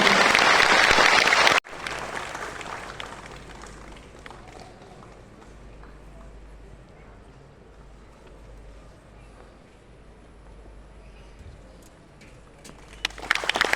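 A burst of loud audience applause at a government job fair event with a chief minister present cuts off abruptly after the opening moments, leaving quiet hall ambience before clapping swells again at the very end.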